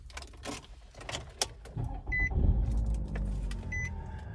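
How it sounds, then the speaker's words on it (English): Keys jingle and clicks sound before the engine of a 2017 Nissan Rogue S compact SUV cranks and catches, settling into a steady low idle close by. "And I'll just let you listen to this startup."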